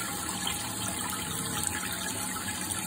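A toilet flushing, heard as a steady, close rush of gushing water that holds at an even level for about three seconds with no one talking.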